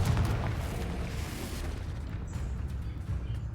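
Confringo fire spell blast in the Hogwarts Legacy game, a dense rumbling explosion with heavy low boom that rolls on and slowly thins out over several seconds, loud and close.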